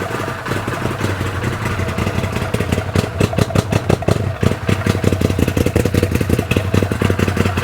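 A 2014 Arctic Cat Wildcat 1000X V-twin, running rich, idles with an uneven, loping clatter of irregular pulses, loud and close, with no talk over it.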